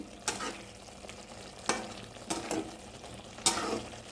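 Ghugni masala being stirred in a pan, a low frying sizzle broken by four sharp scrapes and clatters of a spoon against the pan, close and fairly quiet with no talking.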